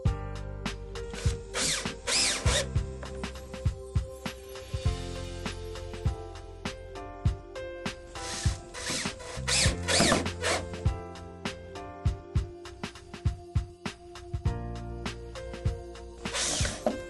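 A power drill drives number 10 by 1 1/4 inch self-tapping screws into the back extension panel of an Ocean Blue Grand Entrance pool step, in repeated whirring bursts with clicks and handling noise between them.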